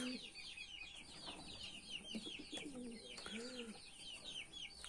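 Pigeons coo softly and repeatedly at close range, a rolling, bubbling murmur of several birds overlapping with faint background chirps.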